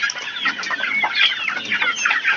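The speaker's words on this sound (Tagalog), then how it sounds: "Ayan po ang bibigay nating pagkain sa ating mga sisiw." Young chicks, about two months old, cheep and cluck busily in a continuous high chatter while being given wet feed, close and fairly loud with no voices.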